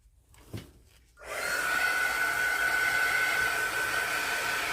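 A hair dryer switches on after a second of quiet handling noise and blows steadily at close range, drying alcohol ink on a cured polyurethane owl piece in a mold tray.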